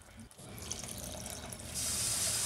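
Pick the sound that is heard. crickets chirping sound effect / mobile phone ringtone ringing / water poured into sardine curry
water poured into sardine curry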